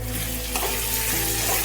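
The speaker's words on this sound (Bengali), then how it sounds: "আমি দিয়ে দিচ্ছি আলুগুলো এবার তেলের মধ্যে।" Large-cut potatoes sprinkled with a little salt fry in hot oil, producing a loud, continuous sizzle with a brief stirring scrape partway through.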